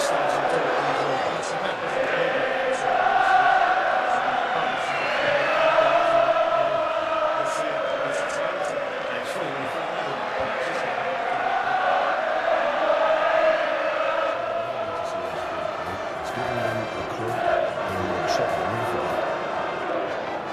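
Huddersfield football fans roar and cheer in a stadium during a match against Blackpool, a broad, steady wash of crowd noise rising and falling beneath a commentator's continuous voice.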